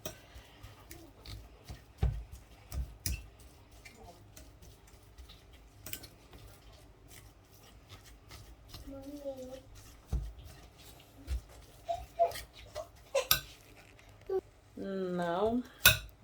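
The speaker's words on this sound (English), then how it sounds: "Now I'm going to use a fork to shred the broccoli into pieces," Fork scraping and clinking against a bowl while shredding strained broccoli, scattered sharp metallic taps and scrapes at irregular intervals, close and fairly quiet, with a few brief voice sounds in between.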